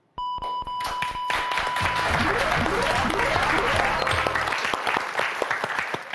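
A game show studio audience breaks into sustained, loud applause after a round, the clapping swelling quickly after a few electronic beeps and holding steady throughout.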